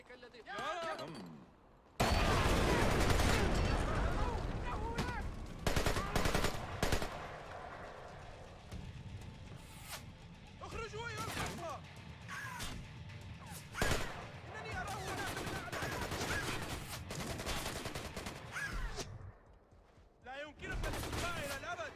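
Rapid bursts of gunfire and explosions in the stealth action video game Splinter Cell Conviction, loud repeated volleys rattling through the whole stretch, with someone speaking over parts of it.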